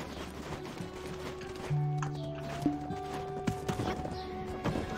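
Horse hooves clip-clop in the video game Black Desert Online, a steady rhythmic trot under game music and ambient tones, moderately loud and close.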